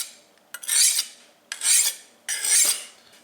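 Three rhythmic gritty scraping strokes of a blade drawn across a whetstone, close up, with short pauses between passes and no talking.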